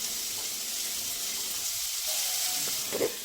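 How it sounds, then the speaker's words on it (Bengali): Cauliflower and carrots fry in a covered pan, giving a steady, dense sizzling hiss close up, with a faint clink near the end. "ঢাকা দিয়ে ভাজবো, এতে করে ফুলকপি গাজরটা সেদ্ধও হয়ে যাবে।"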